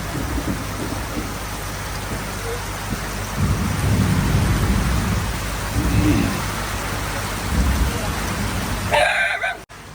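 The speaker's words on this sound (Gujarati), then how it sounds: "વીજળી થાય છે અવાજ જો" Deep thunder from a lightning storm rumbles in waves over steady heavy rain, with a brief voice-like sound near the end.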